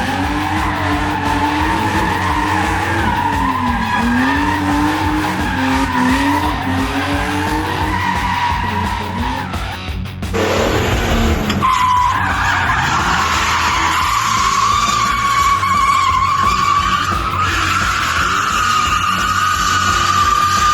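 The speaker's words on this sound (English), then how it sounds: "Tires are so loud." Tires on a stock Volkswagen Mk3 A59 rally prototype squeal loudly and continuously as the car is driven hard, with engine noise underneath and a sharp scrub partway through.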